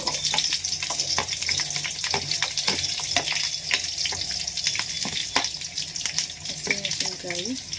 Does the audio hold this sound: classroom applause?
no